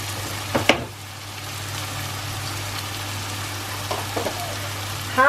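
Grated ginger and nut paste frying in a pan for egg korma, giving a steady low sizzle throughout with a few brief stirring clatters near the start and end.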